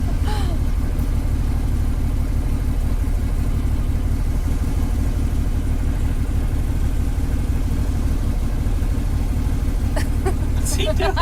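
Side-by-side UTVs (a Kawasaki KRX, Honda Talon or Can-Am XRC) run outdoors with a loud, steady low engine rumble throughout, joined by brief voices near the end.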